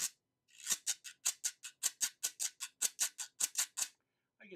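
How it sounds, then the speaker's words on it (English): A ridged güiro gourd with small cuts along it is scraped in a quick run of about fifteen evenly spaced rasping strokes, bright and close, with a short pause before the run begins. "this instrument, which is called a güiro, which means gourd, but it's had these little cuts made into it"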